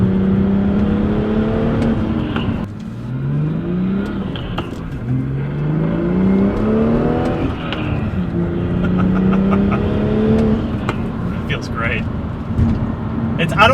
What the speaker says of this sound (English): the turbo spool is pretty wicked